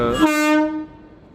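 The horn of the new Firozpur–New Delhi intercity train, number 22486 with an electric engine, sounds at Firozpur Cantonment station as a single loud, clear tonal blast lasting under a second before fading out.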